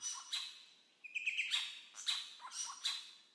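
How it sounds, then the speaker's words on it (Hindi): Golden bowerbird calling in Australian forest: a series of sharp, high chirps and rasping notes in irregular bursts, fairly close and alone without talk. "पर इन सब में सबसे ओरिजिनल लगती है गोल्डन बावरबर्ड"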